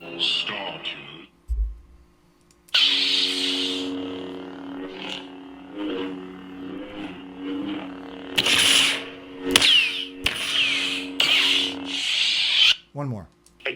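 Star Killer lightsaber sound font on an Elf Sabers saber with a custom Tierfon hybrid chassis: a low buzzing ignition hum that swells and wavers with swings, then bursts of bright crackling clash sounds, near and loud throughout.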